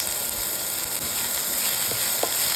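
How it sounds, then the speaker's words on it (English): Chopped onions sizzle in hot oil with cumin seeds in a pan, a steady close hiss with faint scraping clicks from stirring, no voices. "Now to this, add in the chopped onions."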